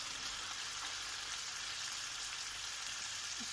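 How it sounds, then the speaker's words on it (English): Red wine poured into a pan of sizzling stewed chicken with bacon sets off a steady, dense hiss of frying that stays loud and unbroken throughout, with no talking. "We now add our red wine, nostro vino rosso,"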